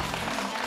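Studio audience clapping on a French TV talk show, a steady dense wash of applause lasting under a second with faint voices mixed in.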